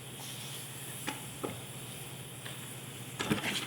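Crêpes cooking and caramelizing in a pan give a faint steady sizzle throughout, broken by a few soft clinks and scrapes of a utensil against the pan, with no talking.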